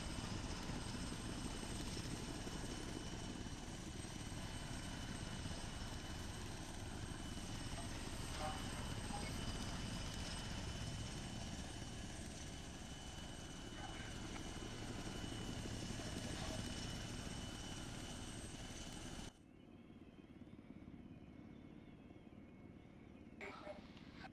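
A UH-1Y helicopter on approach to a runway gives a steady, loud rotor and engine roar for about twenty seconds, then drops to a quieter, muffled hum. A radio voice talks over it.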